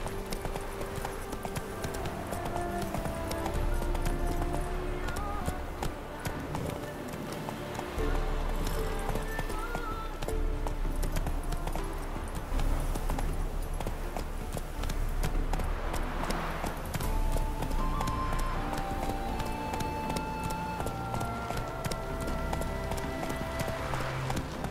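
Hooves of Roach, a horse in The Witcher 3, clip-clop at a steady galloping rhythm for the whole stretch, close and fairly loud beneath game music and scattered voices.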